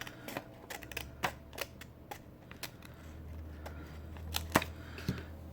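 Scissors snipping paper for a winter-themed pop-up junk journal, a series of sharp, close, irregular cuts and paper rustles in a quiet room.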